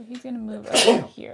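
One sharp sneeze bursts out midway, loud and close, right after someone speaks during a Summoner Wars board game session.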